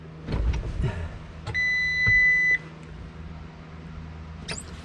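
A single high electronic beep from a skid steer's backup camera system sounds for about a second amid low machine rumble and a few clunks, fairly close.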